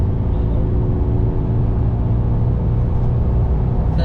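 A Chevrolet Lumina SS accelerating hard in third gear, its engine a loud, steady low rumble that holds constant and close throughout with no speech over it.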